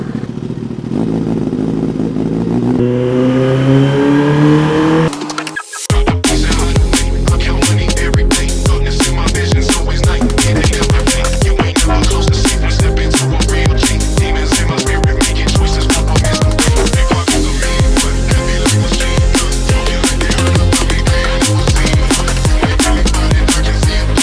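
Kawasaki ZX25R and ZX10R sport bikes revving loud and close, with a high-pitched, shrieking engine note that rises at about five seconds and then holds as a continuous rapid, rattling roar with no talking.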